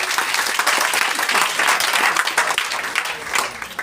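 A crowd at a motivational seminar gives loud, vigorous applause, a thick continuous wash of clapping that swells and dips slightly over a few seconds, with no speech over it.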